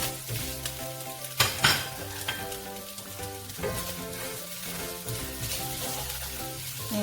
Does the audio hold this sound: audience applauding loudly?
no